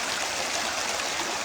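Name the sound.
stream water tumbling over stones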